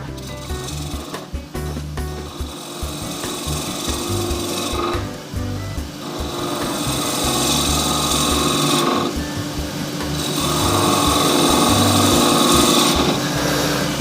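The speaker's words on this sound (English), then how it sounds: "So I'll go back with the spindle gouge again." Spindle gouge cutting a wooden shaving brush handle on a lathe, a continuous rasping, scraping hiss over the motor's hum, swelling and easing as the tool moves along the spinning wood, no talk.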